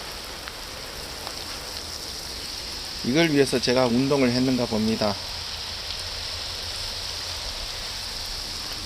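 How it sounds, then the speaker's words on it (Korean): A handheld shower head sprays water over potted succulents, making a constant, close rain-like hiss from start to finish, with a voice talking briefly over it in the middle. "물소리가 오히려 좀 좋게 음악 가는 것보다 더 좋게 들릴 수도 있을 것 같아요"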